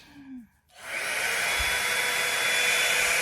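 A hair dryer used with a flat iron while styling hair starts after a brief sigh and then blows steadily and loudly with a broad rushing airflow.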